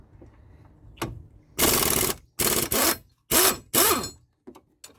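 An impact wrench zips off the front brake caliper bolts on a Ford Freestyle in a few loud, close bursts, separated by short gaps and small clicks.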